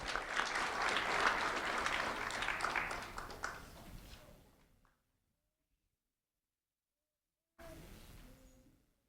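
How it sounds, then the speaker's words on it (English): Audience applause at a community recognition ceremony honoring a third grade student, a dense burst of clapping that fades to silence, then a brief return of sound near the end. "Joel, a round of applause for Joel."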